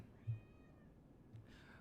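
A house cat gives a couple of faint, drawn-out meows, the second rising after a short pause, against a quiet room background.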